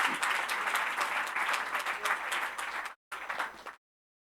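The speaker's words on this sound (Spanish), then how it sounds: "Dale un aplauso fuerte al Señor." A church congregation breaks into loud, sustained applause during a Spanish-language sermon, dense hand-clapping filling the room that cuts off abruptly near the end.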